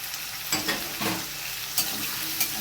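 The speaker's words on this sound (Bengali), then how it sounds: "এবার আমি দিয়ে দেবো ঝুড়ি ঝুড়ি করে কেটে রাখা পেঁয়াজ" Chopped onions fry with potatoes in a pan while cauliflower stalks cook with poppy seeds, giving a soft, constant sizzle punctuated by a few quick stirring scrapes and taps, with no talking.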